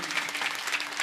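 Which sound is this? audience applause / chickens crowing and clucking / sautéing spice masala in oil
audience applause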